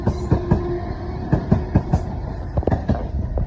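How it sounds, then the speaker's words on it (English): A British Rail Class 455 electric train passing through Clapham Junction, close and loud, with rhythmic clickety-clack wheel beats over rail joints above a low rumbling roar. "455 720 is on the rear of this train."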